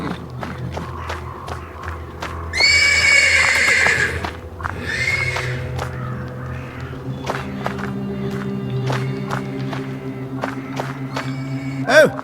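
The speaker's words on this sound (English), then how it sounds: "The persistent neighing of a horse can be heard from the stables." A horse in the stables of the video game Black Book neighs loudly in two long whinnies, with hoof clops, footsteps and faint ambient murmur around it, ending on a sharp closing sound.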